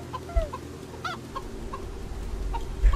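Chicken clucking in the video game Mini Ninjas, a few short clucks over a steady low game soundtrack, fairly near and moderate in level.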